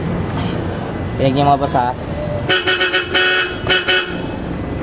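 Aftermarket PIAA Superior Bass horn fitted to a Toyota Hilux honks in several short blasts, loud and close, with someone talking briefly just before.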